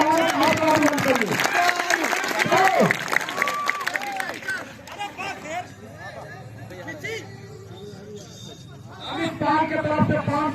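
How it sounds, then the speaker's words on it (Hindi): Applause and crowd noise at an outdoor wrestling dangal at a village akhara in Jaunpur, loud clapping and cheering that fades into murmuring, then rises again, mixed with talk. "अगर कुश्ती अच्छी लग रही तो जगह से ताली बजा के"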